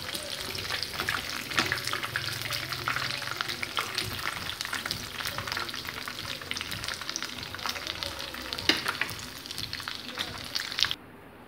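Coated chicken pieces frying in hot oil for chilli chicken, a steady dense sizzle running continuously up close, with occasional stirring clinks and no talk, cutting off abruptly at the end.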